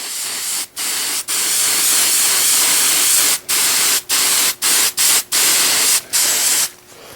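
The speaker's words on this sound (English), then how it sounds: "we're going to spray these down really well" A loud aerosol can of hairspray sprays onto furnace filter material in a series of hissing bursts, some long and some short, separated by brief pauses.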